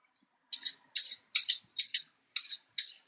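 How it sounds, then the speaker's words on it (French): Carrots being peeled in a home kitchen, with six rhythmic scraping strokes of the peeler against the vegetable, each short and close, evenly spaced with brief pauses between. "Je suis en train d'éplucher des carottes."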